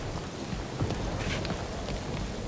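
Rain falling in the video game Marvel's Guardians of the Galaxy, a faint, steady hiss with scattered soft patters and occasional brighter drips, heard alone.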